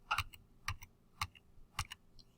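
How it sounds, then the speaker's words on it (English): Four distinct presses of the Tab key on a computer keyboard, spaced about half a second apart, crisp and close, with no talking. "I hit the tab key on my keyboard"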